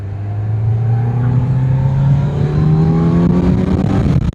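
A car accelerates hard off a roundabout, its loud, close engine note climbing steadily in pitch through the gears without a break, with no voices over it.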